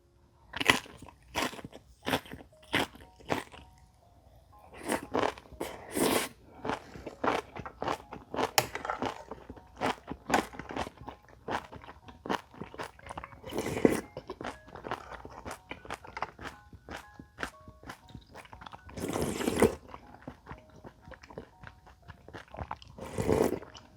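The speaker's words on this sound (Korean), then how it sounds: "요즘 누가 김치를 찢어 먹나? 통으로 먹지." Loud, close crunching and biting of a whole piece of kimchi eaten alongside rice-cake dumpling soup, with sharp repeated crisp bites and wet chewing in a steady rhythm and no talking.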